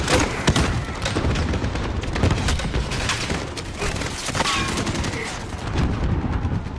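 Call of Duty Modern Warfare combat: a thrown grenade blast and rapid automatic gunfire, dense bursts of sharp loud shots and booms running continuously throughout the battle.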